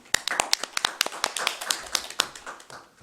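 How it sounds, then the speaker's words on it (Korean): A small group applauding in a committee meeting room: distinct, fairly close hand claps in an irregular but steady patter over about three seconds. "진심으로 수고의 따뜻한 박수를 보냅니다."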